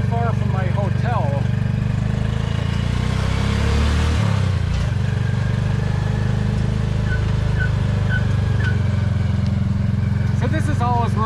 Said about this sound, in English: In the back of a tuk-tuk here in Vientiane, Laos.